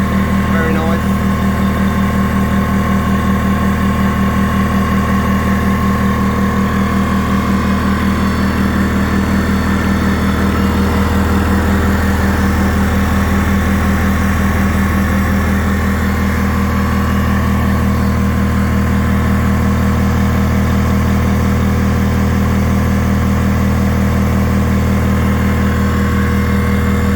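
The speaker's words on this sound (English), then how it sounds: "Dewalt portable compressor." A DeWalt DCP10QTC 1100 W, 240 V portable air compressor runs with a steady, continuous motor hum and drone close by for the whole stretch, with a person talking briefly.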